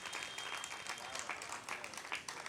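An audience at a Hindi poetry recital in Ujjain claps steadily, a dense, even patter of many hands at moderate distance with no talking over it.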